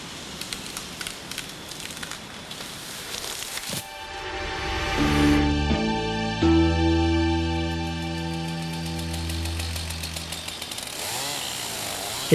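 A chainsaw bites into a tree trunk for felling, its engine rising from a rough idle into a loud, steady high-pitched whine as the bar sinks into the wood, with a faint voice over the start.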